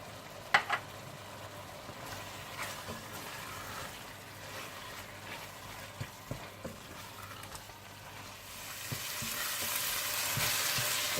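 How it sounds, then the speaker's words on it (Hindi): Ground coriander, cumin, turmeric, red chili powder and salt fry in oil for a chicken and potato curry, giving a faint, steady sizzle with occasional light stirring taps. The sizzle grows louder and brighter near the end. "धनिया पाउडर, जीरा पाउडर, हल्दी, सुर्ख मिर्च पाउडर और नमक डालकर अच्छी तरह से भून लें।"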